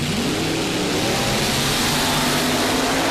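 Alcohol-fuelled altered drag racing cars running side by side in qualifying at the World Fuel Altered Nationals, a loud continuous roar of racing engines filling the whole clip.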